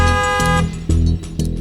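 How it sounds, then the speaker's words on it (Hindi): A car horn honks from a driver waiting outside, a few short loud toots in quick succession with brief gaps between them. "मेम साहब, ड्राइवर हॉर्न दे रहा है"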